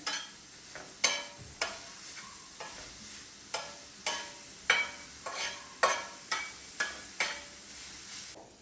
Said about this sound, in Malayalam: ബീട്രൂട്ടിന് നല്ലോണം മൊരിഞ്ഞ് വരുന്ന പോലെ വറുത്തെടുക്കണം